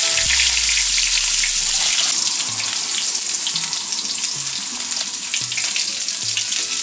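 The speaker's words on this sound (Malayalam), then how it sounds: "കടുക് പൊട്ടിക്കഴിയുമ്പോൾ ചെറിയ ഉള്ളി അരിഞ്ഞത് ഇടുക." Chopped small onions hit hot coconut oil with popped mustard seeds for a Kerala seafood dish. A loud, dense hiss of frying runs steadily for several seconds, with faint low knocks underneath and no talking.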